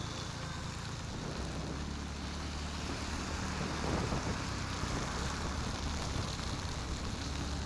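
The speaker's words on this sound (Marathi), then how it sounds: "जाम पाऊस आहे जाम ओलं होणार आहे" Heavy rain pours down steadily during a ride on a TVS Ntorq 125 scooter, a dense unbroken hiss with a low rumble of the vehicle and wind underneath, continuous and close.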